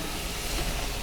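Peppers sizzling on an outdoor grill beside onions and asparagus, a steady close hiss spread evenly through the moment with no talking.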